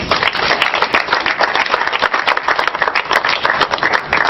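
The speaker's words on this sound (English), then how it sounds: "And we give him another round of applause." At a startup meetup in a bar-like venue, a small audience claps for a guest speaker, a close, crisp flurry of individual hand claps that is uneven and continuous for several seconds.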